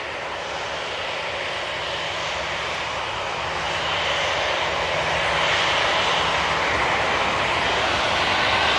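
Aer Lingus airliner jet engines spooling up at Manchester Airport, a broad steady roar that swells louder partway through and holds, heard from a distance with no voices.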